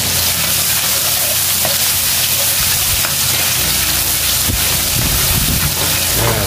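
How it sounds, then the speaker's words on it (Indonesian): About 20 grams of chopped onion frying in hot oil for sambal chicken, a loud, steady, dense sizzle and crackle with occasional stirring clinks, close and continuous. "saya masukkan ini ada bawang bombay chopper ya, kira-kira 20 gram. Saya masak."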